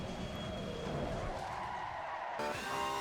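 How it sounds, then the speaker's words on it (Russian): A race car sliding without ABS in a racing simulator game, loud sustained engine drone with tire scrub and skidding throughout, shifting pitch near the end. "Без АБС мы видим занос, снос."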